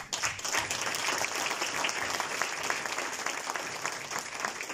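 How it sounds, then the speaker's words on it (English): Round of applause for the participants at a congratulatory event, continuous crowd clapping at moderate, even loudness throughout. "I'd like you to just join me to give them a round of applause"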